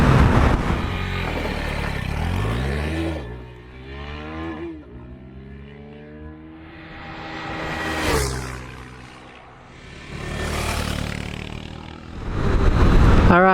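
A KTM 390 motorcycle running near top speed in sixth gear, its engine note rising and falling in sweeping pitch glides with loud wind rush, easing off mid-run then swelling back up close.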